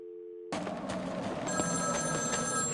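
Telephone rings in the Batman Arkham City video game, starting abruptly after a brief low tone and continuing as a steady bell ring over ambient game sound, with no speech.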